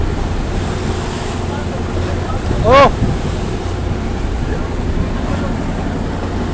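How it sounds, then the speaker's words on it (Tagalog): Strong ocean waves roar steadily alongside heavy wind buffeting, a constant loud rush; midway a person briefly lets out a short exclamation. "malakas yung alon ngayon"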